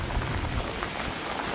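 Heavy rain pours down outside a house during an Edmonton, Alberta summer, a loud, dense, continuous hiss with low rumbling gusts and no voices.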